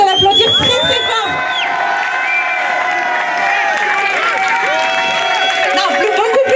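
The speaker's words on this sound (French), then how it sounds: "Je vous demande de l'applaudir très très fort." A crowd at the French snowboard championships cheers and applauds for a medal-winning champion, a dense, loud wall of shouts, whoops and clapping that carries on steadily throughout.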